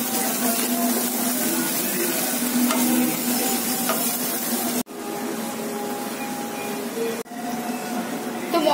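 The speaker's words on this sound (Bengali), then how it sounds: "সব কিছু একসঙ্গে আর একটু ভালো করে কষিয়ে নেব।" Chili powder and spices are stir-fried in a pan for a fish curry, giving a steady close sizzle with scraping stirs that continues with brief breaks and no talk.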